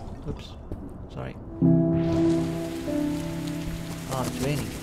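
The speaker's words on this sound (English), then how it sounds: "Oh, it's raining." Video game rain in Blue Skies starts abruptly and continues as a steady soft hiss, with a sustained tonal hum and a voice speaking over it.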